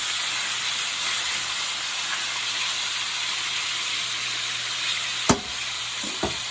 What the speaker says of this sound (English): we're gonna sear now pork ribs and our sausage